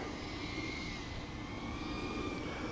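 A Diatone Taycan C3.1 cinewhoop drone flying at a distance gives a steady, faint high-pitched motor whine with a slowly wavering tone over a constant airy hiss.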